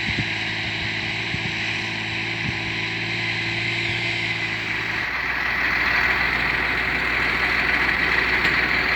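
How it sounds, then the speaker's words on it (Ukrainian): A tractor engine drones steadily while plowing a field, a continuous low rumble that grows slightly rougher partway through, with no voices. "і потихеньку тракторець повзе"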